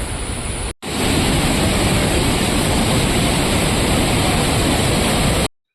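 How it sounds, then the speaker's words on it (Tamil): Steady, loud rushing of flowing water, like a forest stream or waterfall beside the Valparai to Athirappilly forest road, filling the clip alone after a brief cut near the start. "இந்த வாட்டர் சவுண்ட் மட்டும் கேட்டிருந்தேன்னு பார்க்குறீங்களா"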